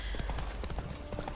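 Horse hooves clip-clop in a steady rhythmic trot in The Witcher 3: Blood and Wine, fairly close and continuous over a low ambient background.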